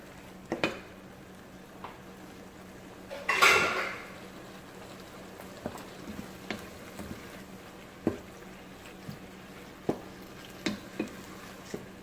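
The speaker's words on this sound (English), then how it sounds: "I have a can of diced tomato." Canned diced tomatoes with basil, garlic and oregano going into a pot of homemade chicken chili: a wet splat and slosh, then a series of light clinks and scrapes from a utensil against the pot.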